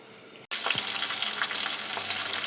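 Fish frying in a pan in a home kitchen, a steady broadband sizzle and hiss that starts abruptly after a brief pause and continues loud and close, with faint crackles throughout and no voices.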